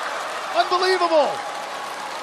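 A hometown crowd in the stands at a women's curling World Cup match in Suzhou applauds and cheers steadily in a broad wash of noise while a commentator speaks over it.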